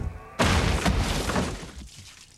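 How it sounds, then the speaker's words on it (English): A Terry's chocolate orange is whacked and smashed in a 2003 advert, one sudden loud crack and shattering burst followed by a short crumbling decay, heard alone. "When you whack a Terry's chocolate orange,"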